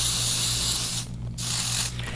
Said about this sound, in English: you spray it in and it hides that gray